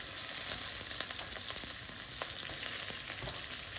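Garlic and chili sizzling steadily in leftover oil previously used to fry fish, a dense continuous hiss and crackle heard close up with faint scattered pops.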